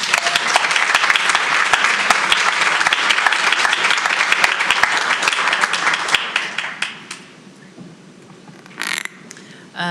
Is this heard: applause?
yes